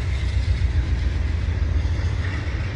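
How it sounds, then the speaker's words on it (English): VIA Rail passenger train rolling past on the Toronto east side, a loud, steady low rumble of wheels and cars filling the whole stretch with no pause, close to the listener. "And there goes the VIA train."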